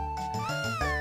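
A cat meows in the video game Chrono Trigger DS: a couple of short, bright, rising meows in quick succession, clear and close, with a light jingle.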